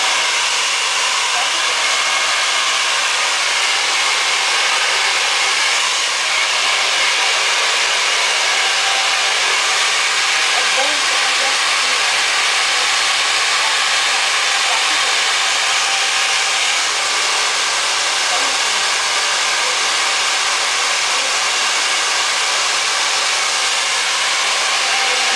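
A hair dryer blows on hair in a home styling routine, a loud, steady, close airy roar that runs unbroken the whole time with no speech.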